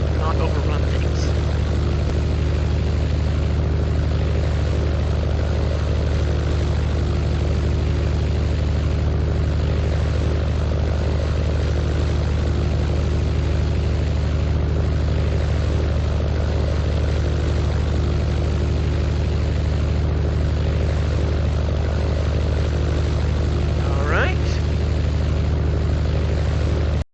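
Propeller airplane engine in the Minecraft Flight Simulator video game, a loud steady low drone of a single prop engine running continuously at constant pitch, with no audible talk.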